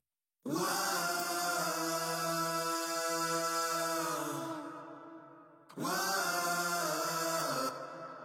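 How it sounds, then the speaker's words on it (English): A big stack of layered sung vocals holds long, harmonised chords, swelling in, sustaining, briefly dropping away, then returning, with no speech over it. "we also have this massive vocal stack"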